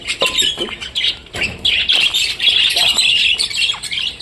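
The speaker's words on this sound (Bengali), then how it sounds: "দেখো এটা একটা সুন্দর পাইট বাজিকার পাখি" Pied budgerigars chirp and squawk in quick, repeated bursts, close by and lively, with soft rustling between calls.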